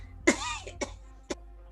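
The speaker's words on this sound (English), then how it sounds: "No, don't cough at me or else we'll really get sick." A person coughs three times in quick succession, each cough close and sharp, with short pauses between them and no talk.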